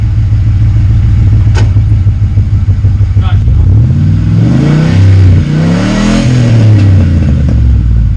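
A car engine with freshly welded side-pipe mufflers idles loud and close, then revs up and down in several rising and falling sweeps before settling back to idle.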